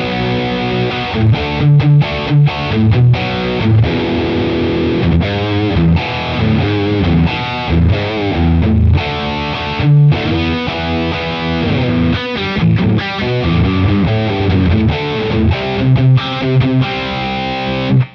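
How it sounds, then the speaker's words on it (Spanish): An Ibanez RG550 electric guitar played through a distortion effect sounds a loud, continuous run of crunchy chords and riffs with no talking. "Entonces yo puedo ir al tercero, que es una distorsión."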